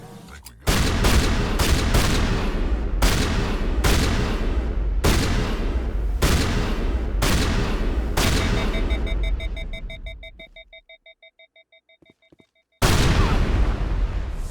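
A shotgun in Mass Effect fires loud, close blasts at a steady rhythm of roughly one per second, followed by a fading ringing tail, a short silence and another blast.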